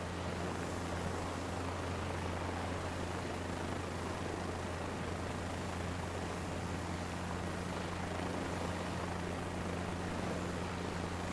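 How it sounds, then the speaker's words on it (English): Helicopter descending in Microsoft Flight Simulator 2024: a steady, even rotor and turbine drone with a low hum holds unchanged throughout, with no talk. "let the aircraft helicopter turn back itself as I descend down"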